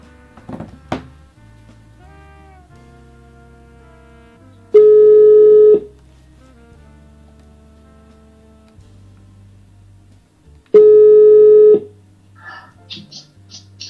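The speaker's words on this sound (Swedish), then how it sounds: "Nu ringer jag Kenneth och skäller ut honom" An outgoing telephone call in Sweden: a few clicks and thumps as it connects, then two one-second ringback tones about six seconds apart, clear and loud over a quiet line.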